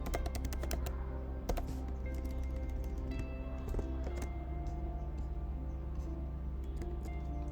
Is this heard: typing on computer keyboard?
yes